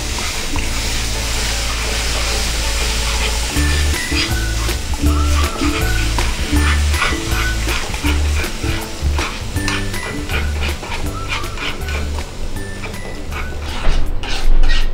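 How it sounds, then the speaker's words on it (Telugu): Leftover chapati pieces fry in a pan with milk being stirred in, a continuous close sizzle broken by rhythmic scraping and clinking of the spoon against the pan. "ఇలా బబుల్స్ వస్తున్నాయి కదా, అప్పటి వరకు ఫ్రై చేసుకోవాలి."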